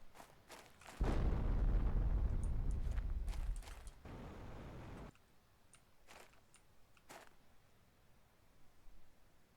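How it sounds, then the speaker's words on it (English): A loud blast from explosives detonating in the video game Planet Crafter, a heavy rumbling burst lasting a few seconds before fading into quiet clicks and soft thuds. "I just tried exploding with explosives"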